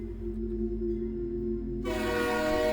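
A train in a horror cartoon: a steady low rumble runs throughout, then a loud, bright horn or whistle blast cuts in near the end and holds to the close.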